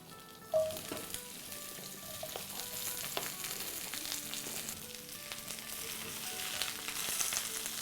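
Okra in about two to three tablespoons of hot oil in a pan, a loud steady sizzle that starts with a sharp splash as the pieces go in, then keeps frying continuously with faint stirring, and no talk.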